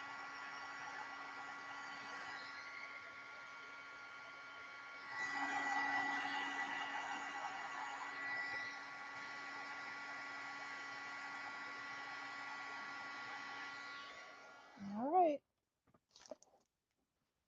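A heat tool blows steadily with a whining electric hum to melt embossing powder on a handmade card, holding for about fifteen seconds before it clicks off, followed by a few faint handling sounds.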